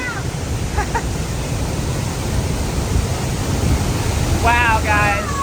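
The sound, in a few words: waterfall at Horseshoe Dam near Phoenix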